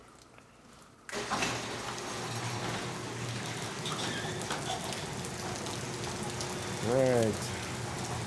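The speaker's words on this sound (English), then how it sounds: "see how much this rain is coming down" Heavy thunderstorm rain suddenly becomes audible as a door or window opens, then a dense, steady roar of downpour continues close by. Someone speaks briefly over it.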